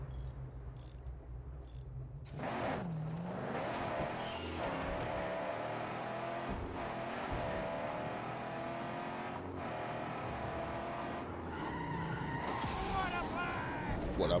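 A car in the video game Helldivers 2 driving and skidding, a continuous revving engine with tire screeches and sliding noise, steady and fairly loud throughout with an abrupt start after a quiet moment.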